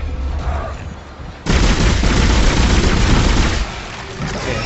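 Weapon fire in the sci-fi horror video game Dead Space: a heavy blast erupts after a quieter stretch, followed by several seconds of loud, dense booming and crackling that fades slightly at the end, with no talk over it.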